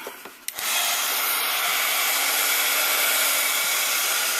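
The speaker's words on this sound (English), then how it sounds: "Heat set that." A heat tool blows steadily and loudly at close range while melting embossing powder on a die-cut paper butterfly, starting after a few brief clicks and a faint hum, then running as a continuous airy roar.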